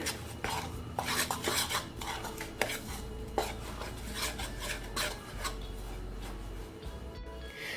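Masala paste with turmeric powder and vinegar being mixed in a bowl for Kerala fish fry, a close, continuous rasping and scraping of spoon against the bowl with occasional clinks.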